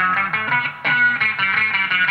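Electric guitar run through Guitar Rig software with reverb, EQ and a wah effect, a dense harmonic line of sustained, swelling notes with a brief dip before the phrase resumes, steady and loud with no talking.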